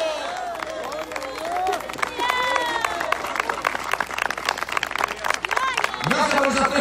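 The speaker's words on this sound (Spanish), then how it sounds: "Gracias por esas tres palmas que dieron para el Señor." A church congregation clapping at a revival campaign in San Pablo, Peru, sharp rhythmic claps mixed with crowd noise and a preacher's voice shouting over them throughout.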